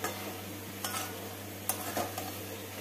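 Soya chunks and cabbage with a spoon of ghee being stirred in a pan, giving a quiet, steady low sizzle broken by a few soft scrapes of the spoon against the metal.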